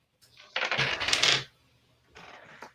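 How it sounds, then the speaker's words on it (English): Dice rolled during a game night board game: a loud rattling clatter of several dice tumbling for about a second, then a shorter, quieter second roll with a final click. "So, Helen, you roll 4 dice."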